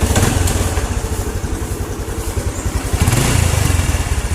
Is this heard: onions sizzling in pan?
no